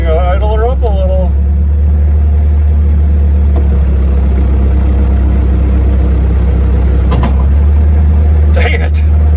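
A tractor engine idling loud and steady during a homemade grapple bucket test, with a deep constant rumble throughout, a brief rising whine near the start and a few clanks toward the end.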